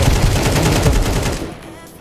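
Rapid pistol gunfire in Counter-Strike 2 rings out loud and close for about a second and a half, several shots in quick succession before cutting off to quiet game ambience.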